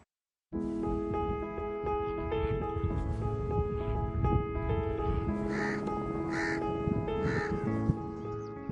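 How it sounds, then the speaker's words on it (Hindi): Migratory birds call at Chilika Lake in Odisha, several harsh cawing calls rising over a busy, layered outdoor chorus of bird sounds that starts abruptly and continues throughout. "ओडिशा की मशहूर चिल्का झील प्रवासी पक्षियों से गुलजार है।"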